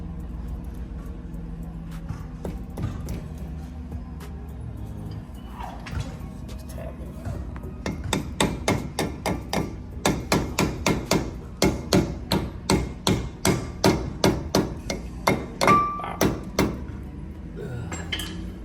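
A grease-filled dust cap is tapped onto a Brougham's front wheel hub with a hammer, giving a quick run of sharp metallic knocks. Quieter shop handling comes first, then the taps repeat in a fast, steady rhythm close by.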